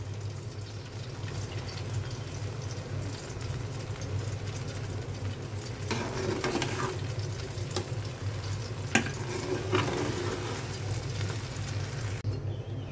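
Eggs frying for fried rice as they are stirred in a pan, a soft, steady sizzle with scraping and stirring sounds that swell in short bursts, plus one sharp clink near the end.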